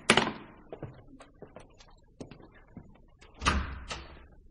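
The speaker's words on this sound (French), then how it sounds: "on s'en va à la porte d'entrée" Front door of a house opening with a sharp wooden knock and rattle, a few small handling clicks, then a louder thud and creak as it swings, close and clear in an otherwise quiet room.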